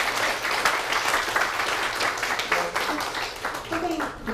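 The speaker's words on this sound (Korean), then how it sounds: "다시 한번 뜨거운 박수 부탁드립니다" Audience applause in a university lecture hall after a Korea University talk on classical Chinese poetry, a steady dense wash of many hands clapping for the full four seconds, moderately loud with a few voices mixed in toward the end.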